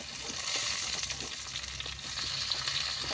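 Chopped tomato fries in a pan over a clay stove, giving a continuous, even sizzle and crackle with light stirring scrapes, close and steady without any voices.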